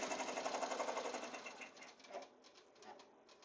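An embroidery machine stitches a placemat zipper pouch in the hoop with a rapid, rhythmic needle chatter that starts loud and close, then slows into intermittent bursts before tapering off.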